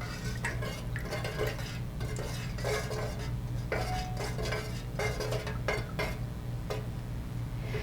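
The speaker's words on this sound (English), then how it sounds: "Stir thoroughly but gently. I usually go about 20 times in each direction." A utensil stirs fragrance oil into melted soy candle wax inside a container, giving repeated soft scraping and clinking strokes in a steady back-and-forth rhythm, close by and moderately loud, with no talking.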